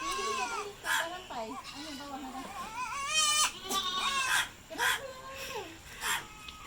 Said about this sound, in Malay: Bunyi anak kambing.